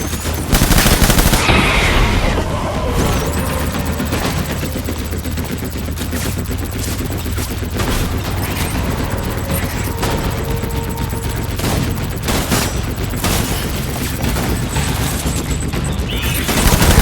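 Sustained heavy gunfire from the video game Death Stranding Director's Cut, with rapid automatic bursts and booming shots running continuously for the whole stretch, loud and dense with no pauses.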